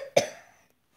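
A single sharp cough from someone with strep throat, close and fairly loud, with a short decay and quiet afterward.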